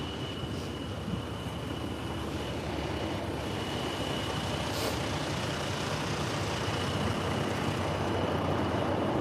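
Trucks in a freedom convoy roll past on a road near Hagerstown, Maryland, a steady broad engine and tire roar with a faint high whine, continuous and moderately loud without talk.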